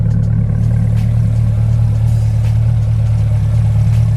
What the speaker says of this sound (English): you can hear that good C8 rumble of that Corsa exhaust